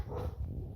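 Several household dogs bark in a quick, close burst, a dense low rumble of woofs packed into under a second with no talk over it.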